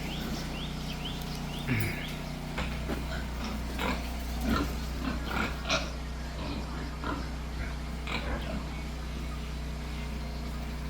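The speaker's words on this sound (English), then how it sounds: "So the pigs I'm showing you, they were all from three mothers." Pigs in a piggery grunting now and then, fairly faint, over a steady background hum with scattered short noises.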